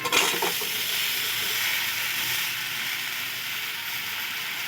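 Pumpkin and potato pieces fry in a pan with ground ginger while being stirred, giving a steady, close, dense sizzle. A scraping clatter comes at the very start, then the frying hiss runs on without a break.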